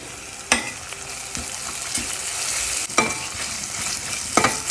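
Tomato pieces fry with oil and ginger garlic paste in a pan, giving a steady close sizzle broken by several scraping strokes of a stirring spoon.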